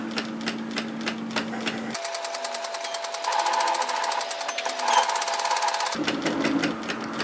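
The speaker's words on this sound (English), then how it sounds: "I'm going to run a gathering stitch from the top notch" A sewing machine runs a long gathering stitch, stitch length raised to 4, through a sleeve piece in a steady rapid mechanical chatter that holds for several seconds, with its motor hum in the middle section and quieter clicking before and after.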